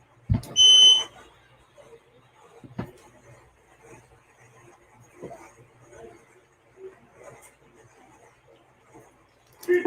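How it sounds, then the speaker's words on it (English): A smoke or fire alarm chirps loudly in a short, bright burst near the start, then quiet room sounds and scattered low knocks follow for the rest of the clip. "Noon, turn your fire alarm off. Your fire alarm always going off."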